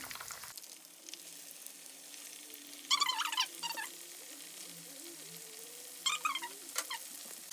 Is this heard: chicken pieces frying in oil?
yes